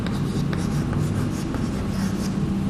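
Writing on a board during a chemistry lesson, a steady continuous scratching and scraping of the marker or chalk, close and fairly loud with a broad noisy texture and no talk.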